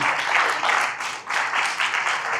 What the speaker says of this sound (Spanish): Un fuerte aplauso a ellos que estuvieron aquí